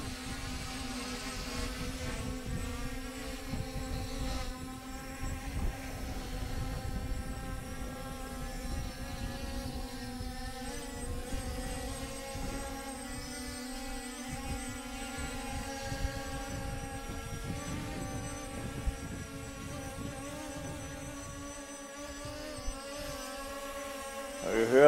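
C-Fly Faith 2 Pro drone flying in fly around mode outdoors in some wind, giving a steady, faint insect-like whine that holds evenly throughout.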